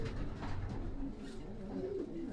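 A racing pigeon coos softly at the loft, a few low repeated coo phrases close by with no talking.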